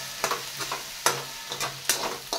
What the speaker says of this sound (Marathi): मीडियम गॅसवर 5 मिनिटे भेंडी शिजवून घ्यायची आहे